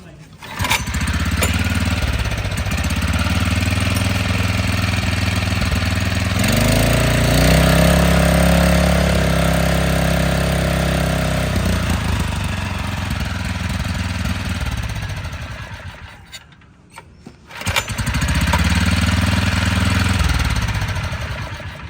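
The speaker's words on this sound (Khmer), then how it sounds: "ឥឡូវខ្ញុំតេស្តម៉ាស៊ីនឲ្យបងប្អូនស្ដាប់សំឡេងតិច" A small Kawasaki water pump engine runs loudly nearby with a steady chugging drone, briefly dropping in revs near the end before surging back up.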